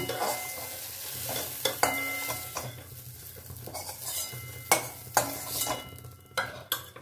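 A soft sizzle of food frying runs throughout, broken by scraping stirs and sharp clinks of a utensil against the pan.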